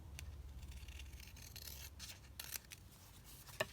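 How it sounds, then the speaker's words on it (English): Scissors trim paper card for a pocket on a handmade envelope flap. A few faint, close snips and rubs rise over a low steady background hum. "So I'm just going to cut that down because it's not very straight."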